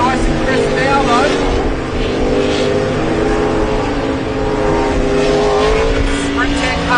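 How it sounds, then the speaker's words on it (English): A V8 racing powerboat engine roars steadily and loud, its pitch shifting as it runs, with an excited voice talking over it the whole time. "Boat sounds nice and crisp now though."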